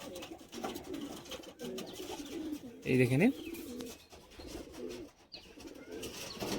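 High flying pigeons coo in a loft, soft murmuring throughout, with a louder burst of cooing in the middle; someone speaks briefly over the birds.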